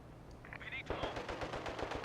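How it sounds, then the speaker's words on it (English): Machine gun fire in the Company of Heroes 2 strategy game, a quiet rapid burst of rattling shots that opens up after a brief radio-like chirp and keeps chattering to the end. "Oh, careful, there's a machine gun."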